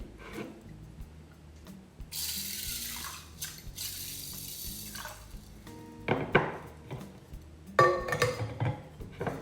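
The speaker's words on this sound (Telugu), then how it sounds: "ఒకసారి వాష్ చేసేసుకొని డస్ట్ ఏమైనా ఉంటే తీసేసి" Kitchen tap running while sprouts are washed, a hiss of water that comes and goes in bursts, with clinks of a bowl and splashing near the end, no talk.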